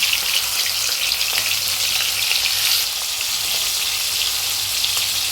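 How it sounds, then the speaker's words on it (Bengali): Prawns frying in hot mustard oil produce a loud, close, constant sizzle and spatter, steady throughout with light stirring, and no one talking. "সরষের তেল দিলাম, গরম হয়ে গেছে, মাছটা ছেড়ে দিলাম।"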